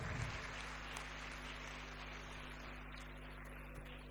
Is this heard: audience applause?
yes